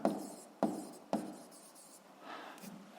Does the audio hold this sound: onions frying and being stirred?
no